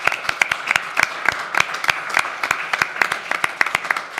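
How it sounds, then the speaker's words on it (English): A conference audience at a union pensions event gives a short round of applause, with irregular individual claps that sound fairly close and sparse rather than a dense roar. "Could have a quick round of applause for everyone that's helped out."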